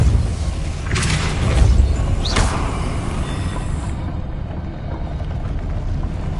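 A Depulso force-push spell cast in the game Hogwarts Legacy gives a dull booming whoosh, with two quick sweeping swishes up high, set against steady game ambience and no speech.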